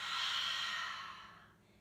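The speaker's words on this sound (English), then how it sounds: "Strong, strong exhale out through the mouth." A strong, forceful exhale out through the mouth during a yoga flow: one breathy rush of air, loud at first and fading steadily to near silence, heard alone and close.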